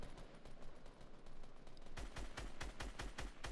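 Grenade launcher fire in Fortnite Mobile on iPhone, heard as a run of repeated sharp blasts that grow louder and denser toward the end, evenly spaced over a constant busy game background.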